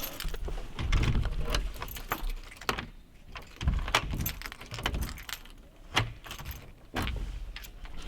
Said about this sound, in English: We are locking up. Which one is it? This one. We made new keys.